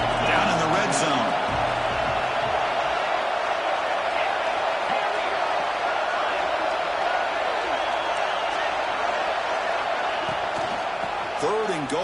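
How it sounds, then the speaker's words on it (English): Football stadium crowd roaring continuously to back the defense near the goal line, a dense, loud sustained wall of cheering with a commentator talking over it. "the crowd coming to life here, trying to help this defense down in the red zone"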